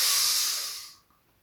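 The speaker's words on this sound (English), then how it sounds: "So make a soft sound of your breathing while inhaling" Soft, deep inhaling breath with a steady airy hiss for about a second, close and quiet, then fading into silence.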